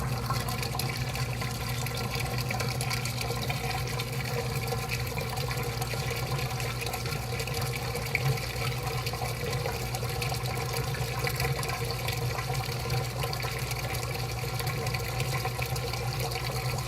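A washing machine fills with water for its rinse cycle: a loud, continuous rush of running water that stays steady the whole time, with no talking.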